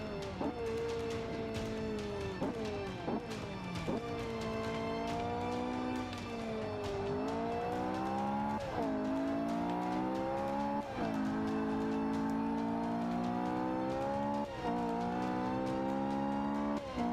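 2009 Ferrari 458 Italia engine in the racing game Forza 5, loud high-pitched revving that climbs through gears again and again with sharp drops at each shift, continuous for the whole stretch.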